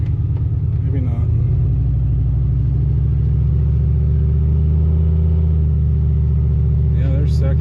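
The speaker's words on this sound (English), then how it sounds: "I feel like that's second gear right there." A car with a locking differential drones and rumbles loudly from inside the cabin as it shifts into second gear. The engine note climbs and steadies, with people talking over it.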